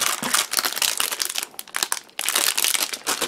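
Plastic packaging of ration crackers crinkles and rustles up close, with loud irregular crackling handling noises lasting a few seconds and no talking.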